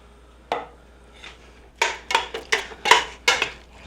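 A utensil scrapes and clinks against a pot as chunks of meat are stirred in cooking oil for black bean chili, making a run of sharp, rhythmic metallic strokes up close after a single early clank.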